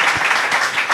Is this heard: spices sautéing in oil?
no